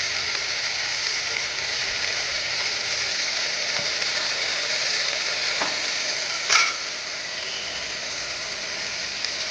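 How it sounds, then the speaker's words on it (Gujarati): Kathiyawadi papdi flat-bean curry stirred in a pan, a steady close sizzle and scrape running throughout with one sharp clink of the spoon near the end. "થોડી વાર માટે આપણે હલાવી દઈશું"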